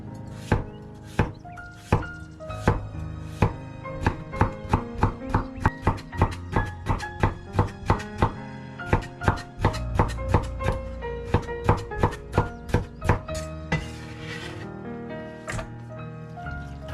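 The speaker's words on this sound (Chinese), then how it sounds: "去掉皮之后，先切成片，之后再改刀切成丝" A knife chops peeled Hokkaido potatoes into slices and then shreds on a board, with quick, even, rhythmic thuds that run close and loud over background music before trailing off at the end.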